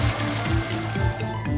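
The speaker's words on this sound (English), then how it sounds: "The milk is being poured into the cistern" Milk pours into a cistern with a steady gushing, splashing flow, close and continuous, with a few brief bumps as the stream shifts.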